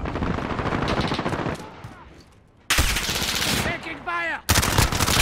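Automatic gunfire in the video game Call of Duty: Modern Warfare: loud, dense bursts of rapid shots that pause briefly and then resume, with game sound effects mixed in.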